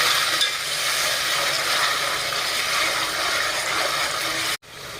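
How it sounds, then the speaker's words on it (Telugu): Food frying in a pan until its raw smell cooks off: a loud, steady, dense sizzle that holds evenly throughout, then cuts out abruptly for a moment just before the end. "వాసన పోయేంత వరకు దోరగా వేయించుకుందాం"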